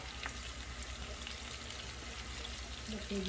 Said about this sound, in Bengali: আমি একটু জিরা ফোড়নি দিয়ে দিচ্ছি।